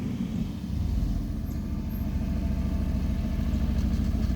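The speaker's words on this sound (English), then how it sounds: "Here's a sports car." A sports car's engine hums low and steady as it rolls slowly over a speed bump on a residential street, the sound fairly close and continuous, with no talking.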